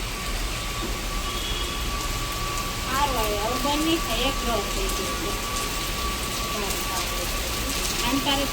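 A sudden heavy downpour pours steadily throughout, a dense continuous hiss, with a voice talking over it in the middle.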